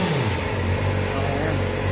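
Kawasaki ZX-4RR 40th Anniversary motorcycle engine idling warm, a steady close low rumble that holds evenly for two seconds with no clear rise in revs.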